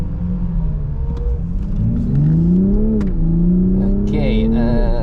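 A Toyota Supra fitted with Bilstein suspension accelerates on the Dijon circuit, its engine note rising steadily in pitch through a gear, loud and close from inside the car.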